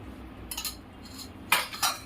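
A metal spoon scrapes and clinks against a pressure cooker while garam masala and ghee go into a spiced jackfruit dish, two short clusters of bright metallic taps about a second apart, close and isolated against a quiet background.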